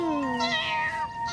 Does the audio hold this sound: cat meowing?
yes